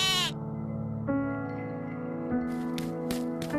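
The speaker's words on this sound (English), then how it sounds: "Once he grabbed the first goat and it bleated" A goat bleats in a long, wavering, nasal cry, close and loud, followed by a few short sharp clicks near the end.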